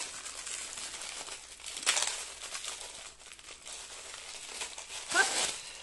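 Plastic wrapping on a Shein parcel holding a plastic-handled brush is crinkled and torn open, with two short, fairly quiet rustling bursts over a low room hush.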